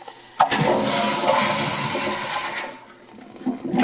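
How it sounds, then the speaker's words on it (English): A household toilet flushing loudly and close by, a rushing swirl of water that runs steadily for several seconds, eases toward the end, then surges briefly again as the tank refills. "flush it."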